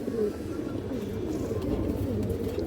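Totamadi pigeons, an old-line breed kept in a loft, coo in a low continuous murmur that fills the whole stretch, close by and steady, with no clear breaks between calls.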